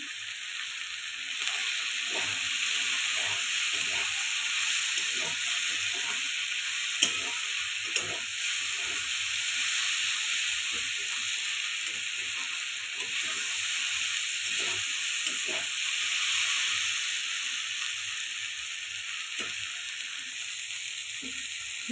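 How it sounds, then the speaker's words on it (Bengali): Ginger and turmeric fry in a pan with a steady, moderate sizzle and hiss, punctuated by soft, irregular stirring scrapes throughout. "আদাটা একটু ভালো করে ভেজে নেব দিয়ে দিচ্ছি একটু হলুদ"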